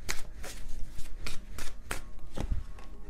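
Tarot cards shuffled by hand during a love reading, giving a run of crisp riffling bursts with short pauses between, close and fairly loud, with no talking.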